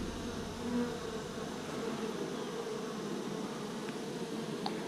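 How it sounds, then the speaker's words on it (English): Steady, dense buzzing of many honey bees, nurse bees on a hive frame close by, a continuous low drone with no talking. "we got a lot of nurse bees on here"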